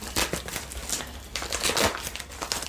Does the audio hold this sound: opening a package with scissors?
yes